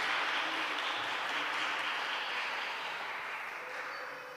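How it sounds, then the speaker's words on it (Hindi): A church congregation applauds at an Easter Sunday Eucharist celebration, steady moderate clapping from a crowd that fades slightly toward the end. "ज़ोरदार तालियों के साथ"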